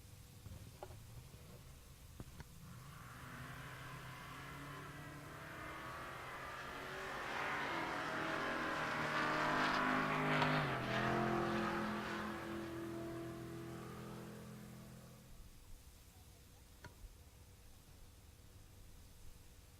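A G-body car and a Chevelle launch down the drag strip at Pueblo Motorsports Park during Rocky Mountain Race Week. The faint, distant engine roar swells to a peak over several seconds and then fades away.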